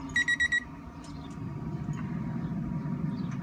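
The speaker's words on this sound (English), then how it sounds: "See our alarm outside is saying, hey, we're where we need to be." A grill's temperature probe alarm gives four quick, bright electronic beeps at the start, then falls silent under a low, steady outdoor rumble.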